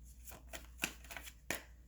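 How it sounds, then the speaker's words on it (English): Tarot cards are shuffled close up in a quiet room, with a few sharp riffling snaps and soft slides spread irregularly over two seconds. "I'm being guided to shuffle again."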